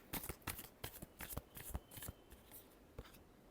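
Tarot cards are shuffled up close, a rapid run of crisp papery riffles and slaps, roughly a dozen quick strokes that taper off, quiet and with no talking.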